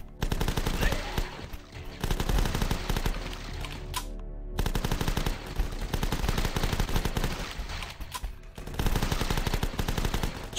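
Uzi fire in the video game The Last Stand, with long dense bursts of rapid automatic shots almost filling the stretch, broken by two short pauses, loud and close.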